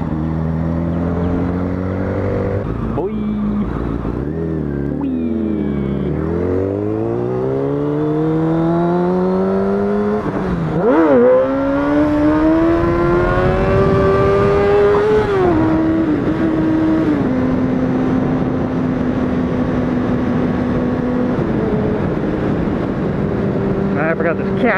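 Motorcycle ridden slowly in first gear, engine droning loud and close throughout with repeated rising and falling revs as the throttle is worked, one sharp blip midway, and no talk.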